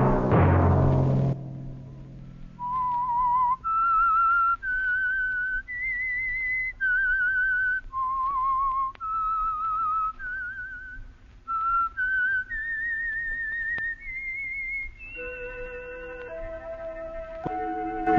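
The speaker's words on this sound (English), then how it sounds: "Let that whistle be your signal for the Whistler each Sunday night at this same time." A melodic whistled theme tune from a 1949 radio drama, clear sustained pitched notes rising and falling, played alone after a brief low rumble at the start.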